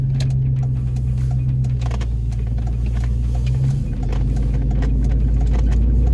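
A lifted truck drives along the road, its engine giving a steady low rumble with continuous road noise close by throughout.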